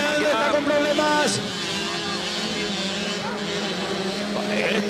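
Engines of 85cc motocross motorcycles buzz and whine during a national championship race, rising and falling in pitch at middle distance under continuous commentary.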